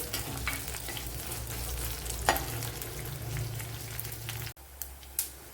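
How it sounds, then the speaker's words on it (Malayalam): Curry leaves and green chillies sauté in hot oil in a pan for fish curry, with a steady close sizzle broken by spoon scrapes and stirring clatter and a brief pause near the end. "ഒരു ശകല കറി ലീവ്സ് അപ്പോൾ ഇത്രയൊന്ന് വഴറ്റിയെടുക്കണം ഒന്ന് മൂത്ത് വരണം"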